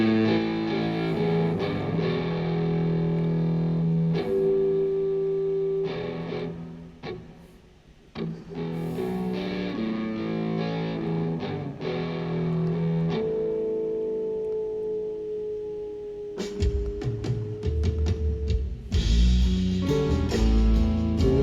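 A guitarist plays an electric guitar through heavy distortion and effects, giving sustained, buzzing notes and rapid picked runs with reverb, loud and continuous, ending in choppy stabbed chords.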